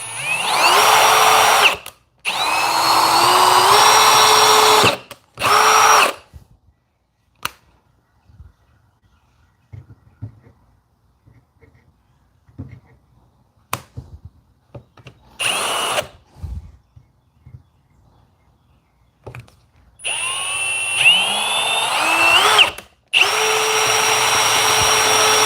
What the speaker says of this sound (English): on this Milwaukee drill, I've got two speeds.